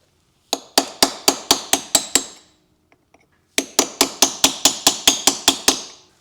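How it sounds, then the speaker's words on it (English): Sharp metallic hammer blows striking a punch against a motorcycle clutch lock nut, two quick bursts of about eight evenly spaced ringing taps each, separated by a brief pause. "I'm just going to use a punch with a hammer to spread the wings of that locking nut back out."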